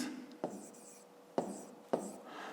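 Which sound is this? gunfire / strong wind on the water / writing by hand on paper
writing by hand on paper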